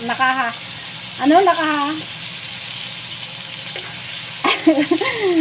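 Fried chicken cooks in hot oil, giving a steady, soft sizzling hiss that runs throughout while a person talks over it in short bursts.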